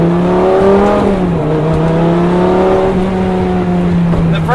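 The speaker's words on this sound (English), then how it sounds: "The first generation Gallardos have some of the best sounding V10s ever made." A first-generation Lamborghini Gallardo V10 drives at night, its engine droning loud and close with rising and falling revs across the whole stretch.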